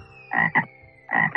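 A cartoon frog croaking in the Puzzingo sports puzzle game, three loud, close croaks (two quick ones, then a pause and a third) over a faint steady tone.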